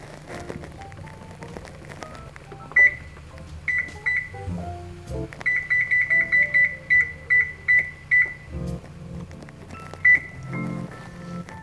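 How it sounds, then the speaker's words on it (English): A kitchen timer is set for fifteen minutes with a string of short, sharp electronic beeps, some single and some in a quick rapid run, clear against a quiet background. "So I'm going to set a timer for 15 minutes."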